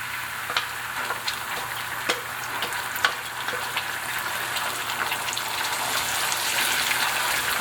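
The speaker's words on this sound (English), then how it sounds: "So at this point I add my tomato puree," Cauliflower sizzles and fries steadily in a pan after crushed tomatoes go in, a continuous close crackling hiss with small pops and a few spoon stirring clicks, growing slightly louder toward the end.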